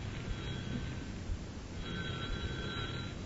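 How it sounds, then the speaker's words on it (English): An old-time radio comedy sound effect of a telephone bell rings in two thin, tinny bursts over a low background rumble, with no talk. "Answer the phone"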